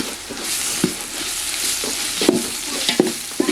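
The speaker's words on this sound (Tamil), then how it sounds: "இப்போ இஞ்சி பூண்டு பேஸ்ட்டு சேர்த்து நல்லா வதக்கி விட்டுடலாம்" Onions with ginger garlic paste sizzle steadily in a hot pan as a spoon stirs them, adding occasional sharp scrapes and knocks over the continuous frying hiss.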